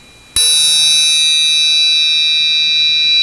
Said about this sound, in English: They're playing a triangle roll.